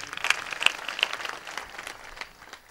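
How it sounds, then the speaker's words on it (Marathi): Applause breaks out for a kirtan singer at a religious gathering, a crowd clapping at moderate distance and thinning out gradually over a few seconds. "बाळू महाराजांकरता पुन्हा जोरदार टाळी वाजली"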